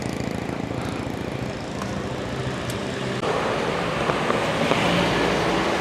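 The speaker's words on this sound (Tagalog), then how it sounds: "Magpuputol naman kami ngayon ng mga bakal. Gamit po yung generator. Gamit yung grinder." A generator runs steadily nearby to power a grinder for cutting steel bars; a loud, continuous engine drone that grows slightly louder and harsher partway through, with no talk.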